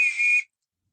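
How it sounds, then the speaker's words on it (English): A man whistles a single sustained, shrill call lasting under half a second, loud and close, then cuts off into silence. "he is whistling for me"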